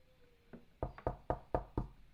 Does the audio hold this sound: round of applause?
no